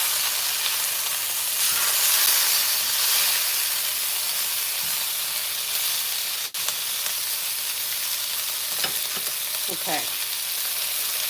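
Herb-crusted lamb chops sizzle steadily in a hot pan, a continuous bright frying hiss with occasional spattering bursts, and a voice briefly speaks once.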